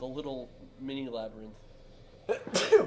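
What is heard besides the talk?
sneeze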